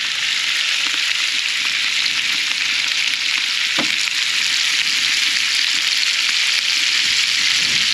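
Cubed pork chops and their bones fry in a pot for chili verde, giving a steady, dense sizzle throughout, with a brief stir or clink partway through.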